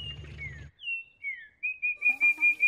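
A person whistles bird-like chirps in a park, imitating a bird with a series of clear rising and falling tones that grow more rapid and repetitive, close and fairly loud.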